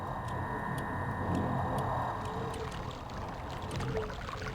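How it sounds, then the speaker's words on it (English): A clock ticks in a puzzle in the Myst video game, a steady series of evenly spaced sharp ticks over a constant low ambient hum, moderately loud. "No, that's the clock."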